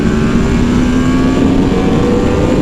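A loud 2020 Yamaha R1 sport motorcycle engine roars steadily, its pitch climbing gradually as it accelerates, heard close up.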